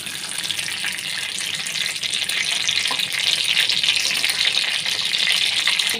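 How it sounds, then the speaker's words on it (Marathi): Bay leaves fry in hot oil in a pan while preparing chicken liver, giving a steady, loud, close sizzle with a bright hiss that holds throughout, and no one speaks. "तेल गरम झालं आहे आता आपण याच्यामध्ये तमालपत्र घालू तमालपत्र परतून घ्यायचं आहे"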